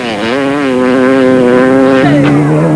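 Race motorcycles and cars at the 1995 Toyota 1000 endurance race roar loudly past, a sustained engine whine with a sharp pitch drop as one vehicle passes close by, with no talk.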